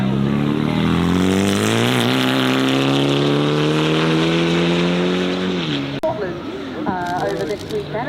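An Audi at the Goodwood Festival of Speed pulls away with a loud, rising engine note climbing through the gears, then cuts off abruptly as a voice takes over.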